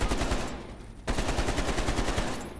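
Rapid automatic gunfire from Call of Duty: Cold War gameplay, a dense, loud burst of shots with a brief gap near the one-second mark before firing resumes; no talk.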